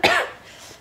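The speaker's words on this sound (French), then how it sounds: "donc je tousse un petit peu" A single short, sharp cough from a woman recovering from illness, close to the microphone, trailing off into quiet room tone.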